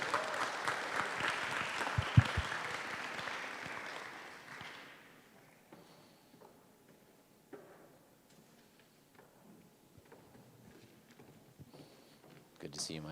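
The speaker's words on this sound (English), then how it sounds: "Please give her a warm round of applause." Conference audience clapping for a panel moderator at a cinema and performing arts session, a moderate burst of applause that fades over a few seconds into quiet room sounds and scattered taps.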